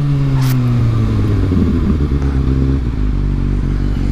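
A Kawasaki ZX6R KRT sport motorcycle engine revs up close and loud, its pitch climbing and then dropping back to a steady rumbling idle.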